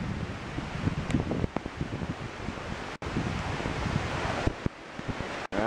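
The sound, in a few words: storm wind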